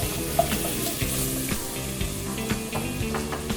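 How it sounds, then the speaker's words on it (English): Celery sizzles and crackles in a soup pot as it is stirred, a steady close frying hiss with light scraping of the spoon throughout. "So now I can put my celery, stir that a little,"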